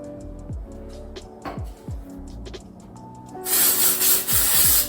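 Dry shampoo powder is sprayed onto sectioned straight natural hair in a loud, continuous aerosol hiss lasting about a second and a half, with softer rustling and handling sounds before it.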